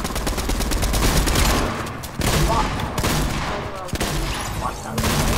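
Rapid bursts of gunfire in the video game Fortnite, loud and dense, with brief gaps between volleys and no talking.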